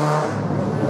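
A Renault Clio race car runs at a hill climb event, its engine holding a loud, steady drone close by, with a lower rumble dropping away early on.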